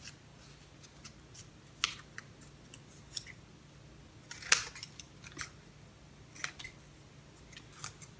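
Scissors make quiet, intermittent snips and crisp paper rustles while cutting a triangle out of folded paper for a shark craft, with soft isolated clicks spaced over a near-silent background.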